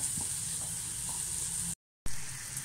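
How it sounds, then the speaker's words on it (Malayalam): Onions sauté in a pan for bitter gourd curry with a steady, close hiss and sizzle, broken by one brief gap of silence. "നന്നായി ഉള്ളി മുരിഞ്ഞ് വരട്ടെ"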